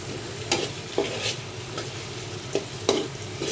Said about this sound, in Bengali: পেঁয়াজ আর কাঁচা জালটা ভেজে নিচ্ছি শাপলাটা রান্না করার জন্য।